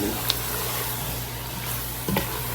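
Andouille sausage is stirred into cooking vegetables in a gumbo pot, a steady hiss of sizzling running throughout with a couple of soft scraping strokes near the end.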